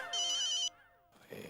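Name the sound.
phone ringtone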